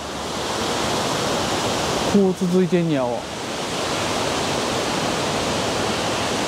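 A waterfall beside a mountain trail makes a steady, full rush of falling water close by, with someone speaking briefly over it.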